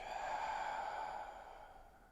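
A long, soft exhale during a seated yoga practice, close and breathy, fading gradually over about two seconds with no talking.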